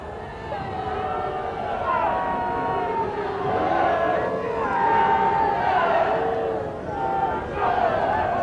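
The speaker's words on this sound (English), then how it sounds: "Certainly the crowd getting behind Keighley this afternoon." Crowd at a Keighley versus Dewsbury rugby league match roaring and cheering for Keighley, sustained massed voices rising and falling in waves, with shouts standing out.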